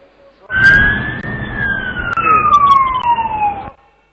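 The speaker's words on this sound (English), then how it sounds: "you heard the siren twice" A loud siren wails close by, its tone sweeping up and then slowly gliding down for a few seconds before cutting off.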